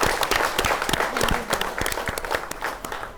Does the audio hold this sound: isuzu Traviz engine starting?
no